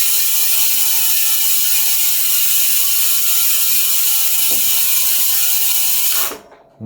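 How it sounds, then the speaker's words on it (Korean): The rear hub ratchet of a Twitter gravel bicycle spinning freely gives a loud, steady, fast buzzing click up close, running on for about six seconds before it abruptly stops. "그리고 라체 소리 들어볼까요? 라체 뒤에 허브 라체."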